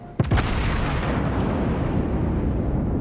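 A heavy naval gun salvo from the battleship Imperator Nikolai in the World of Warships game booms out sharply, then leaves a loud, continuous rumbling roar of battle noise that lasts several seconds.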